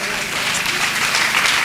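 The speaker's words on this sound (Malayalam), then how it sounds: "ഫാത്തിമ റിൻഷിദക്ക് നല്ലൊരു കയ്യടി കൊടുക്കുക എല്ലാവരും" An audience at a student award ceremony claps for a student, a dense, steady burst of applause filling the room, with a voice faintly present beneath it.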